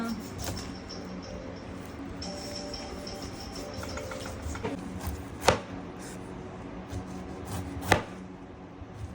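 A pineapple is cut by hand with a knife, giving soft repeated chopping and slicing taps, with two sharper, louder strikes standing out in a quiet kitchen.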